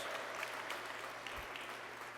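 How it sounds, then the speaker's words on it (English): Audience applause for a town supervisor at a New York state government announcement, a brief, steady, fairly faint patter of clapping heard from a distance. "Please give Steve a nice warm round of applause."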